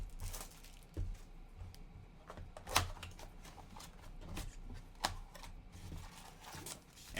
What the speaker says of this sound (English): Plastic coming off.